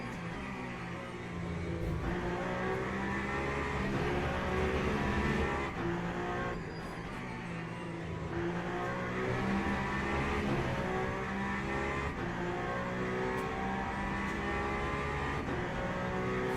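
A Peugeot hypercar in the Le Mans Ultimate racing game roars steadily at high revs, its engine note holding loud and close with slight rattles as it rides over sausage kerbs.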